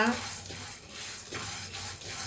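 A metal spoon stirs and scrapes sambar powder spices with toor dal as they roast dry in a pan, repeated clinks and scraping strokes close up with a faint sizzle.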